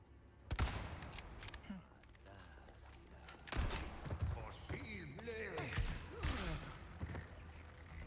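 A gunshot in Resident Evil 4 aimed at an enemy's head: sharp, loud shot transients with a couple of quieter cracks and game clatter, mixed with speech and in-game sounds.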